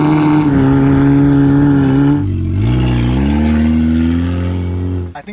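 A car engine revs hard while doing donuts around an abandoned car in the desert, a loud close roar with pitch sweeping down then climbing again before cutting off abruptly.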